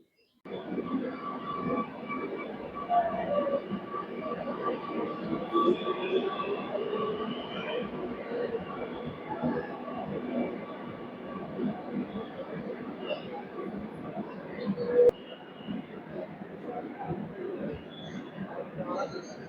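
Metro train at Ernakulam metro station, a steady broadband rumble of the running train sustained throughout, with a brief louder bump near the end and faint background voices.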